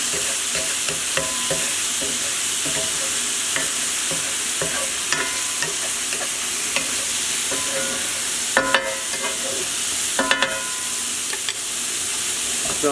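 Food fries in a pan with a continuous close sizzle while it is tossed and stirred, scattered scraping and clinking of a utensil against the pan rising now and then above the hiss.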